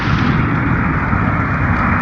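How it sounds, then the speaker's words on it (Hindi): Low sustained rumble of thunder during a stormy evening on Siddhanath mountain, a loud dense roar holding steady throughout with no voices. "बिजली भी तड़क रही है"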